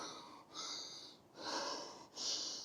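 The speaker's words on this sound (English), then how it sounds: "Excuse my very heavy breathing." Heavy, close breathing from a hiker heading downhill on a path in the Mendip Hills near Burrington Camp hillfort: three loud, rasping breaths in a row, each followed by a short pause.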